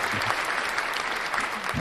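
A burst of crowd cheering and clapping plays as a short sound effect, loud and steady for about two seconds.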